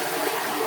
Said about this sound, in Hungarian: Igen, hogy ha lehúzzuk a WC-t,